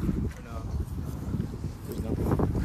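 Gusty outdoor wind buffets the microphone in low, rumbling bursts, loud and close, with faint rustling in the background.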